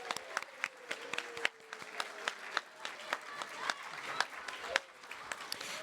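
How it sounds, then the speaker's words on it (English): An audience at a Lunar New Year celebration in New Rochelle applauds performers, with scattered sharp claps building into a steady round of moderate applause that carries on for several seconds. "Let's give another round of applause to all of the performers today."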